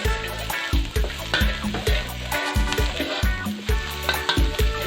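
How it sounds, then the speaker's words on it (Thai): Sliced shallots sizzle in hot oil in a pan while a utensil scrapes and stirs in repeated rhythmic strokes, close and loud, with no talking. "ก็ใส่กระเทียมหอมที่เราซอยลงไป แล้วก็ผัดให้หอม"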